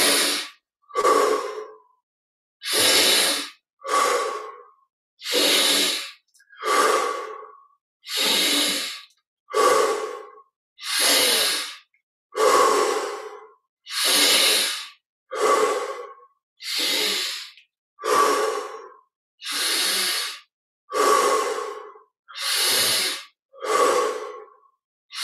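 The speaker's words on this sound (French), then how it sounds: "Inspire par le nez, expire par la bouche." Deep guided-meditation breathing, in through the nose and out through the mouth, heard close up as about fifteen slow, even breath cycles with short pauses between them. No other voice is present.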